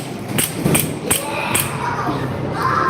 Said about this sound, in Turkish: Bu şişeleri vuruyor arkadaşlar